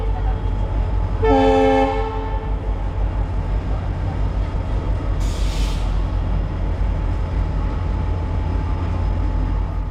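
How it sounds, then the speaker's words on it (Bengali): Riding a train from Kolkata to Asansol on the Eastern Railway line, a steady heavy rumble of the moving train continues throughout, with a loud train horn blast near the start and a short hiss of air later. "দূরে যে লোকাল ট্রেনটি হাওড়াতে ঢুকছে"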